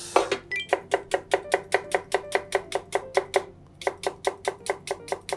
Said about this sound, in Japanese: ネギとニンニクと生姜、これ全部みじん切りにします